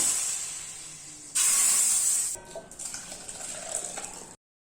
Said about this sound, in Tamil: கீரைத்தண்டு சாம்பார் ரெடி தாளிச்சு கொட்டிக்கிறேன்